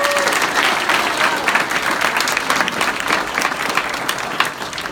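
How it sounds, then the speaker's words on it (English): A seated event audience bursts into sustained applause for a sponsor, dense clapping filling the room steadily for the full duration without a break. "Bob, please stand up and give him a huge round of applause"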